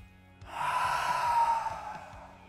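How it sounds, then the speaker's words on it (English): One long, deep inhalation taken close to the microphone, a breathy rush that swells and then slowly fades, with no talking. "Take a deep breath."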